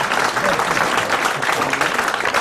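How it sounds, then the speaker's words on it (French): A studio audience at a French radio comedy quiz show breaks into dense, even applause, sustained and fairly loud throughout. "Des applaudissements pour le bénéficiaire du mandat."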